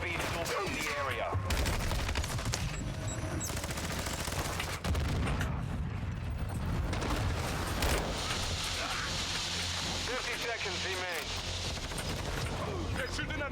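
Bursts of gunfire from a Call of Duty-style multiplayer video game match, crackling shots and a machine-gun rattle mixed with game effects, going on continuously under a player's talk.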